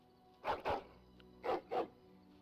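A dog barks in the fantasy role-playing video game Dragon Age Origins, two quick pairs of sharp, close woofs with a short gap between them and nothing else heard.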